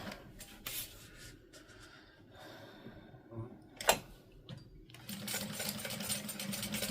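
A sewing machine back-stitching along the bottom of a custom fabric bag at a 1/8 inch seam, a close whirring run broken by short stops and a brief clunk.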